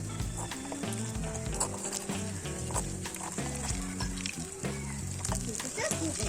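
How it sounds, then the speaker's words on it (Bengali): Cauliflower pakoras frying in oil in a pan sizzle steadily as they are flipped, with light clatter and bumps from the pan over the hiss; voices talk in the background. "এবার আমি পকোড়াগুলো উল্টিয়ে নিই"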